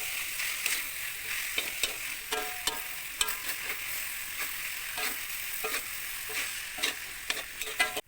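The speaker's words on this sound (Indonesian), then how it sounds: "Sekarang diaduk dulu biar rata ya" Kwetiau flat rice noodles are stirred in a frying pan, a steady sizzle with repeated light scraping and tapping of the utensil at an even rhythm, close and moderately quiet, with no speech.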